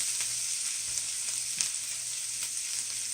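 Dragon kale sautéing in a pan gives off a steady, close broadband sizzle with faint stirring scrapes and small crackles, and nobody speaks.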